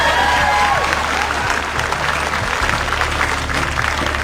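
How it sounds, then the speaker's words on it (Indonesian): An audience at a school quiz competition in Jakarta applauds for a team: dense, loud, continuous clapping that fills the whole stretch, with a faint murmur of crowd voices beneath. "tepuk tangan untuk tim C"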